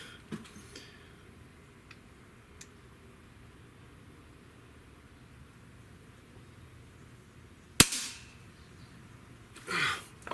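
A single sharp crack from a Diana LP8 Magnum .177 breakbarrel air pistol fired from a bipod, brief and close against quiet room tone, followed shortly by a muffled noise near the end.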